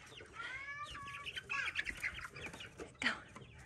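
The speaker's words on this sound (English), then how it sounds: "Come here, rooster." Several chickens cluck and squawk in a busy burst, with a rooster-like call among the birds, close by and fairly loud.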